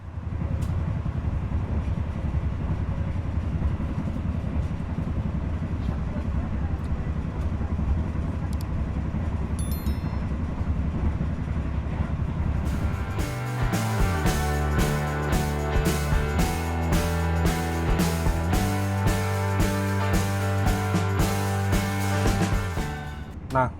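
Argo Wilis executive passenger train departs Jombang station, with a low steady rumble at first, then rising engine tones and rapid, regular wheel clacks over rail joints as it picks up speed, loud and close.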